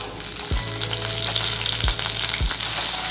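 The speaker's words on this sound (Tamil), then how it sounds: "சுண்டைக்காவை நல்லா வதக்கி எடுத்துக்கலாம்" Green turkey berries sauté in hot oil with onion and garlic, giving a steady, close sizzle with three sharp thuds of a spoon or spatula against the pan, and no voices.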